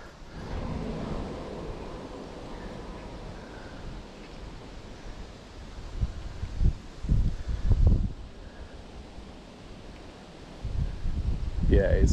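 Wind gusts and buffets a microphone outdoors on a perch-fishing trip, a steady broadband roar with louder low thumps and surges around the middle and end, while someone talks over parts of it.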